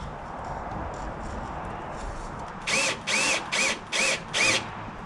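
A drill drives a screw into a shop door in a dirt-floor workshop, heard as five short, loud whirring bursts in quick succession after a few seconds of quiet room ambience.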